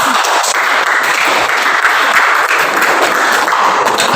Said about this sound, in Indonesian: Tepuk tangan untuk Kurniawan.